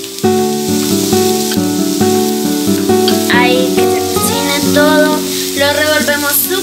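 Onion and garlic sizzle in a hot pan, a loud, steady frying hiss that runs the whole time beneath a bed of music.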